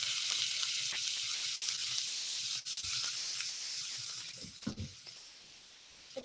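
Loud, steady sizzling of meat frying in hot vegetable oil, a bright crackling hiss throughout, with a few soft scraping stirs near the end.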